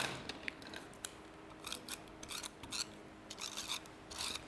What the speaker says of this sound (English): You can do that in your guillotine or just use your scissors.